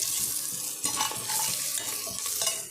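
Kashmiri chili powder being sautéed in a pan while making tomato rice, with soft continuous sizzling and scraping stir strokes close by, no voices.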